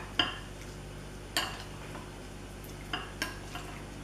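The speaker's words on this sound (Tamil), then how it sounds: "நல்ல வடிவாக மிக்ஸ் பண்ணி விடுங்க." Fish pieces are mixed with lime juice, pepper and salt, giving a few quiet, spaced clinks and scrapes of a utensil against a bowl over soft background hum, with no talking.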